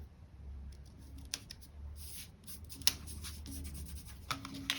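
Scissors trim planner stickers at close range, giving a few quiet snips and paper rustles with soft handling noise between cuts, no voice present.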